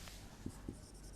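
Pen or chalk writing out a term during a science class lesson, a couple of faint brief scratching strokes against a low steady background hum.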